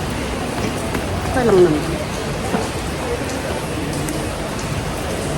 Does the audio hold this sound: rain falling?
yes